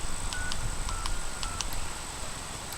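Field phone keyed through an 8-line PABX sends a series of short dialing tone pips, several evenly spaced beeps over a steady hiss and a constant high line tone, with no voices.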